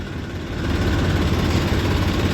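A small Massey tractor engine runs steadily nearby, a continuous low rumble that grows slightly louder after the first half second and holds, with no talking.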